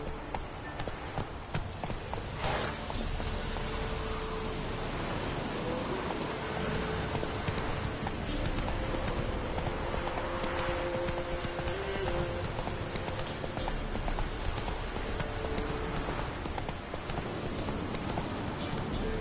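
Horse hooves galloping in the video game The Witcher 3, a steady rapid clip-clop running throughout over a dense background of game ambience and music, fairly loud and continuous.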